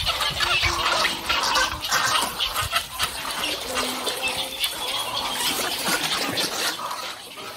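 A noisy mixed colony of herons, egrets, anhingas and neotropical cormorants calls at its nesting pond in Crane Pond, Karanambu, with a constant overlapping chorus of croaks, squawks and clucks.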